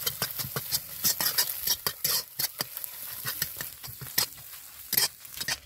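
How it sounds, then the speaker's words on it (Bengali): A salted egg is scrambled and crumbled in a pan, with rapid, irregular scraping and tapping strokes of a utensil over a faint sizzle, close by and fairly quiet. "এইভাবে আপনারা ডিমটা ঝুরি করে নেবেন"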